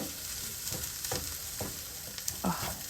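Vegan sausage fries in a pan, its steady close sizzle broken by several scraping stirs of a utensil against the pan; no one speaks.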